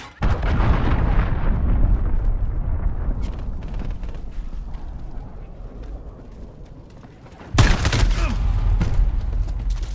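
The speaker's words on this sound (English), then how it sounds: "Enemy cruise missile incoming, take cover!" Heavy cruise missile strike explosions in Call of Duty Modern Warfare open beta multiplayer: a deep rumbling barrage fills the opening seconds, fades, then a second loud blast erupts near the end, with battle noise throughout.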